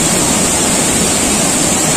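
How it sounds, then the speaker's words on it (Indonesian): The Lubuk Hitam waterfall in West Sumatra roars as a loud, dense, unbroken rush of falling water, close by, with no voices. "menikmati keindahan air terjun Lubuk Hitam"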